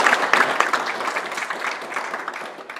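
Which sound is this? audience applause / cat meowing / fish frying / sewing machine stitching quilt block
audience applause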